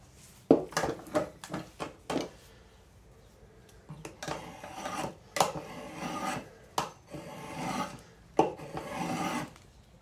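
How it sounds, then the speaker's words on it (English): A spokeshave with a thin blade setting shaves wood in a series of short, raspy strokes, some quick and some longer, close and fairly quiet with brief gaps between passes. "with a spoke shave that's got a thinner setting."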